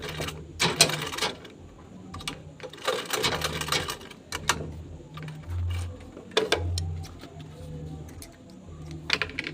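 A sewing machine runs a back stitch on a beginner bag project in short bursts of rapid mechanical stitching, pausing between runs, with a low motor hum and a few small clicks nearby.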